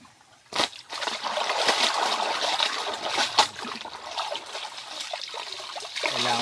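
Laundry scrubbed by hand in a river, with steady trickling, splashing and sloshing water close by and a few sharper splashes through the run.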